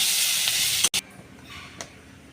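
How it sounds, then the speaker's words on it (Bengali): Spice masala sizzles loudly as it is stirred and fried in a pan, then a brief clatter cuts in and the frying carries on more quietly. "এরপর এটা ভালো করে নাড়াচাড়া করে কষিয়ে নেব"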